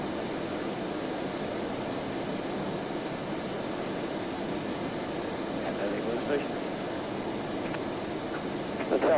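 Airliner jet engines spool up for takeoff in a flight simulator, an Embraer ERJ135 departing Essendon, a steady broadband roar holding at even loudness throughout with faint talk underneath.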